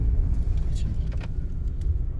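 A car engine idles low and steady during reverse driving practice, a constant rumble from inside the cabin. Faint clicks and light rattles sound over it, and there is a hint of a voice.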